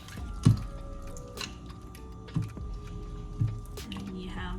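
Corn and peas being stirred into a pot of rice soup, with three soft wet squelching stirs spread over a few seconds against a steady low kitchen hum.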